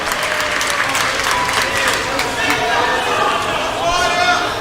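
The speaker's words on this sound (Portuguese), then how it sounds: "Toma o seu assento aplaudindo a Jesus" A congregation claps steadily and enthusiastically, a continuous wash of applause with voices audible underneath.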